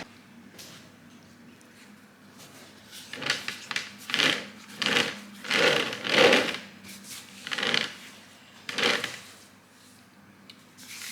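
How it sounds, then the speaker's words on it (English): Sugarpaste passes through a dough sheeter machine, a series of rhythmic rubbing, whooshing passes rising and falling about once a second, close and moderately loud with no talk. "it's gone straight through the machine, all in one thickness"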